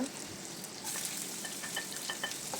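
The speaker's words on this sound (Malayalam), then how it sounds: "അതിലേക്ക് ഒരു പകുതി സവാള അരിഞ്ഞത് ചേർക്കുക" Chopped onion sizzling in oil with ginger-garlic paste for a soya chunks curry, with a steady hiss and bright crackle that grows a bit denser partway through, under occasional light stirring.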